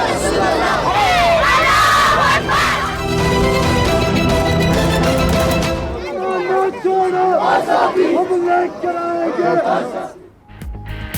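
A large crowd of Kashmiri protesters chants slogans in loud, rhythmic unison, massed voices rising and falling with shouts throughout.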